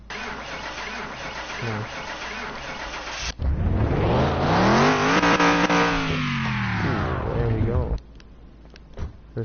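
An engine cranks and catches on a Barracuda in a video game, then revs loudly in rising and falling sweeps for several seconds before cutting off abruptly, with lighter background sound before and after and a brief spoken word.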